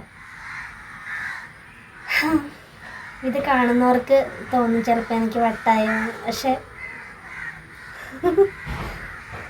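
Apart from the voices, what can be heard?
crows cawing in the evening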